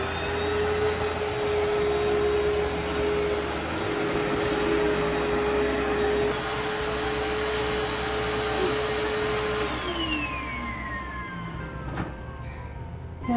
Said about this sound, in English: Time to clean the carpets.